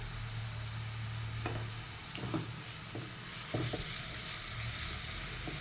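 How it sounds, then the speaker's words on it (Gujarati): Paneer bhurji cooks in a pan as a quiet, even sizzle. A handful of separate spatula knocks and scrapes are spaced through it, heard close and without any speech. "હવે આપણે એને હલાવી લઈશું"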